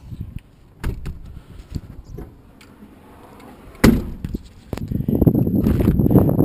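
A 2012 Jeep Wrangler Unlimited Sahara Arctic Edition door clicks open with a sharp latch sound, followed by rustling and a louder thump as someone climbs inside, with quiet handling noises before.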